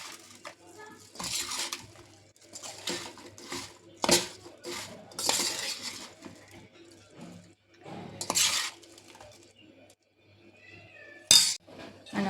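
Spice masala is stirred into stuffed chillies in a metal pan, giving scattered clinks and scraping stirs of a spoon against the pan, with short pauses between bursts and faint background voices.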